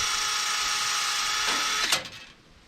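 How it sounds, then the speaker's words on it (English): A power tool scuffs the surface of a 1971 GMC 1500 engine block clean, whirring steadily at close range before cutting off and winding down. "So now we just got to scuff her up down in here so it has a nice clean place to live."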